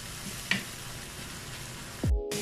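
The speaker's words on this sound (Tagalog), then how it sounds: "Saka natin ilalagay yung liver." Liver sizzling steadily in a hot pan, with a loud hissing fry throughout, a sharp clink near the start, and a rattling scrape as the pan is handled toward the end.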